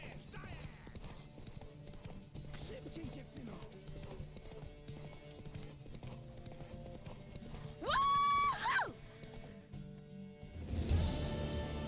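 Horse hooves clip-clop in a steady galloping rhythm during a race in The Witcher 3 video game, with a loud whinny near the end and a burst of commotion after, beneath talk.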